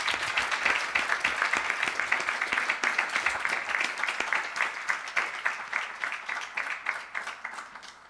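A round of applause from an audience at a Shrimad Bhagwat Katha gathering, individual claps clearly audible in a brisk, uneven rhythm that stays strong and then thins slightly toward the end.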